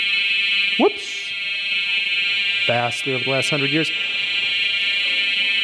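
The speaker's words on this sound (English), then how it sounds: "that's the fire alarm" A building fire alarm sounds continuously as a loud, steady electronic tone throughout, with a man lecturing over it.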